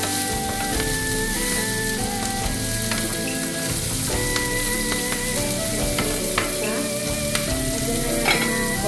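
Adobong sitaw sizzling loudly in a pan as Indonesian sweet soy sauce goes in, a dense continuous crackle with stirring scrapes and small pops close by, no voices.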